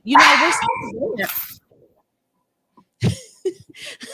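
A dog gives a loud, close burst of barking and yipping at the start, then falls silent before a few softer sounds near the end.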